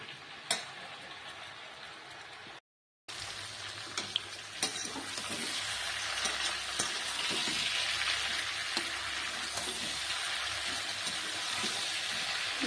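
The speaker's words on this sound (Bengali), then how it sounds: "ভাজা হতে দেবো।" Mixed winter vegetables (potato, beans, eggplant, kohlrabi) seasoned with turmeric and salt fry uncovered in a pan, giving a steady close sizzle with occasional stirring clicks and scrapes, after a brief gap near the start.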